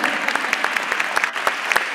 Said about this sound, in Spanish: Sí, aplaudan.